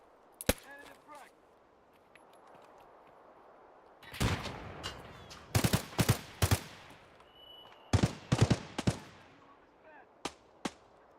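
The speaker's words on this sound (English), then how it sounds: "What is he shooting at?" Bursts of gunfire in Escape From Tarkov, with sharp single shots followed by dense clustered volleys, loud and close, separated by quieter stretches of ambient background.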